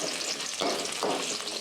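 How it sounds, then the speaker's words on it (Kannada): Spices fry in oil for mutton sambar, a close, steady sizzle with two brief louder bursts of crackling as the pan is stirred. "ಸ್ವಲ್ಪ ಫ್ರೈ ಆಗಲಿ"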